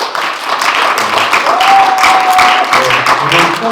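Audience applauding at an outdoor youth political rally on electoral reform in the Seoul metropolitan area, with sustained loud clapping and cheering from a crowd while a voice speaks briefly over it.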